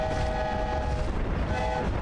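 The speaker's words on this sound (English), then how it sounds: "Ah, that's so sick, the train." A passing train in the video game Hogwarts Legacy, a loud steady rumble with sustained horn-like tones that fade and return, heard alone with no talking.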